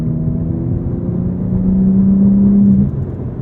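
A BMW M4 CSL engine in Engine Sport mode revs in a steady, close drone with a low whirring tone, swelling louder and holding a sustained pitch before easing off near the end.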